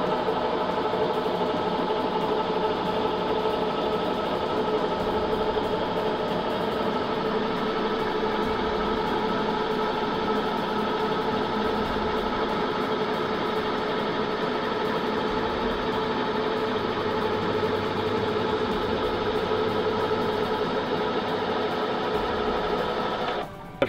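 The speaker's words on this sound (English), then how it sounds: "To put the roof up, it's quite simple. Just push the button." An electric pump or motor on an Earthcruiser Iveco E6 expedition camper raises its pop-up roof, a steady, continuous whirring drone that holds an even level for about twenty-four seconds before cutting off abruptly at the end.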